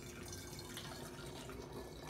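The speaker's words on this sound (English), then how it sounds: "take your funnel and pour water" Water poured through a funnel into a plastic bottle during a kids' cookies and art activity, a steady close trickle and splash running continuously with no talk.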